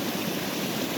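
Clear river water in Jamaica flows in a steady, close, continuous rush over a brief moment, with no voices.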